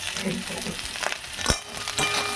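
Spices fry in a pan with salt and half a teaspoon of turmeric, a constant crackling sizzle broken by a few sharp scraping knocks as the mixture is stirred.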